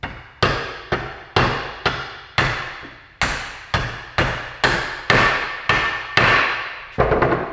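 Hammer blows tapping a CV joint onto the axle of a Mitsubishi Evo VIII, about a dozen sharp metallic strikes in a steady, evenly spaced rhythm, close and loud with brief ringing decays.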